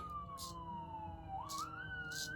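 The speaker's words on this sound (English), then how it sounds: "let's wait until all the sirens go by" Emergency vehicle sirens passing: a wailing siren sweeps down then climbs again over a steady rumble of traffic, with brief bursts of hiss, sounding fairly near and continuous.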